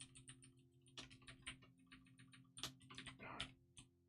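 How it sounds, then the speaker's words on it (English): Keys clatter on a computer keyboard in irregular bursts of close, crisp clicks during C coding work, with short pauses between flurries and a steady low hum underneath; no one speaks. "I was typing so much better earlier,"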